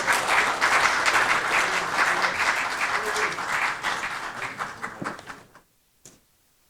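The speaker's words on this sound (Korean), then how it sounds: "큰 환영의 박수 부탁드리겠습니다" A crowd at a policy seminar claps steadily and loudly, the applause holding for several seconds before tapering off into near silence.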